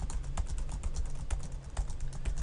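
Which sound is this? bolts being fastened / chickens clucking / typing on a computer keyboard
typing on a computer keyboard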